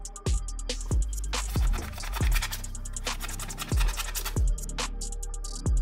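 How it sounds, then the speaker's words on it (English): A spudger scrapes dirt off an NES console case in a series of close, short scratching strokes, each a sharp rasp with irregular pauses between. "I'm just going to use my spudger here and just carefully try to scrape and loosen the big chunks of that"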